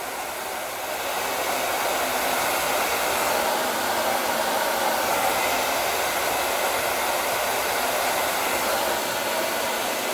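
A hair dryer on low speed and warm setting blows with a steady, even whoosh, running continuously at a constant level throughout without any pauses.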